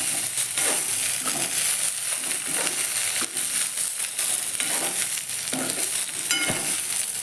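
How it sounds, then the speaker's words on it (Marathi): Poha rava snacks frying in a pan, a constant loud sizzle close up with occasional scraping stirs and spatula taps, no voices. "चांगले भाजून घ्यायचे व्यवस्थित, म्हणजे छान लागतात।"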